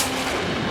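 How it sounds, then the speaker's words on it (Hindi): A single sharp, booming gunshot with a rumbling tail, heard in a short burst with no voices. "ये तो गोली की आवाज है"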